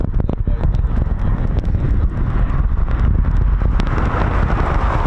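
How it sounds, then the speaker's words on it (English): Wind blows hard and steadily across the microphone at RAF Coningsby during an air display, a continuous rough rumble with gusty bursts throughout. "Bit windy there, Ted, hang in there."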